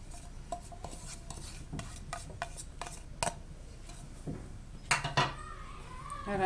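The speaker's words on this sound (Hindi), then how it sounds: "सब्जियां मिक्स कर लें।" Chopped vegetables for Pakistani vegetable cutlets are stirred in a bowl, a quiet scatter of soft clinks and scrapes from a spoon against the dish, with some louder knocks near the end.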